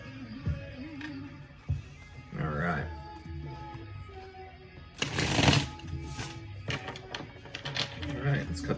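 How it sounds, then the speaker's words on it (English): Tarot cards are shuffled in quick riffling bursts, one long loud flurry in the middle, while a person talks softly nearby. "Shuffle it a couple more times,"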